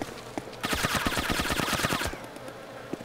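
Rapid automatic gunfire from a player in the survival video game DayZ, a dense burst of shots lasting about a second and a half, close and loud, then quieter ambience with one more faint shot.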